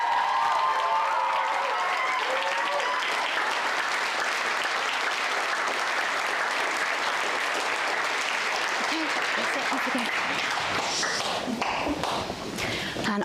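Sustained applause fills a hall at a school Shakespeare performance grand final, loud and continuous, with a few scattered cheers and shouts rising toward the end as the clapping thins slightly.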